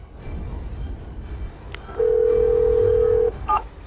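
Telephone being dialed to call an ambulance during a family emergency: a few soft key beeps, then a single steady tone held for over a second, followed by another short pair of tones over low background noise.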